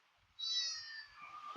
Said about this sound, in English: Here's some kittens